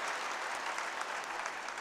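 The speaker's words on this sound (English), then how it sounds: "A big round of applause for our chief guests who have joined us today morning." Broad, steady clapping from a conference audience of chartered accountants fills a short stretch, dense and even, greeting the chief guests on stage.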